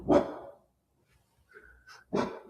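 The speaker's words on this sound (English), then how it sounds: "Can someone shoot that dog?" A dog barks twice, one sharp bark at the start and another near the end, separated by near silence with a brief faint sound in between.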